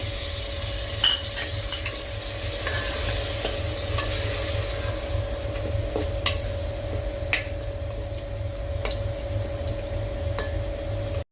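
Chicken curry masala frying in a pan after water is added, a steady close sizzle with scattered scraping stirs and a faint constant kitchen hum beneath.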